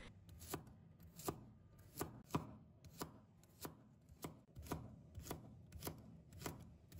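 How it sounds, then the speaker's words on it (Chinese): A knife chops garlic on a cutting board in crisp, evenly spaced knocks, about ten in quick succession, close and clear with no talking. "然后把大蒜切碎，"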